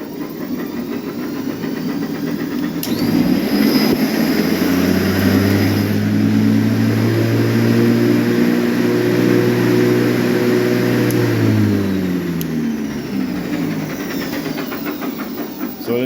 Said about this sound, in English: go ahead and ramp the motor up